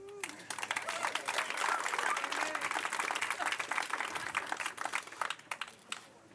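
An audience at a community house centennial celebration claps in sustained applause that swells quickly and then thins into scattered claps, with voices faintly audible underneath.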